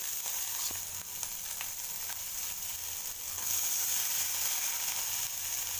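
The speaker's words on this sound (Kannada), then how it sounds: "ಸ್ವಲ್ಪ ಶಾಲು ಫ್ರೈ ಮಾಡಿದರೆ ಸಂಗೀತ ಎಲ್ಲ ಬೇಕಾಗಿಲ್ಲ" Soaked, drained moong dal shallow frying in hot oil, a loud, continuous bright sizzle with faint stirring noises and no voices.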